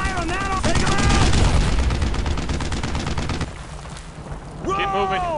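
Gunfire in the World War II video game Brothers in Arms: rapid machine-gun bursts and heavy shots close by, loudest early, then easing. Shouted voices come in at the start and end.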